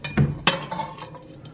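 A soup dish being handled, giving two sharp, close clinks in quick succession, followed by a few fainter rattles as it settles, with no voices.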